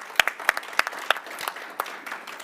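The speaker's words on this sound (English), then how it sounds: "Give them a round of applause." A small audience at an environmental awards event applauds board members, with several sharp individual claps standing out over a thinner patter of hands.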